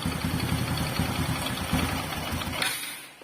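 A Honda Supra X 125 motorcycle engine idles during carburetor adjustment, a close, steady mid-pitched thrum with a rapid regular pulse that briefly shifts and drops near the end.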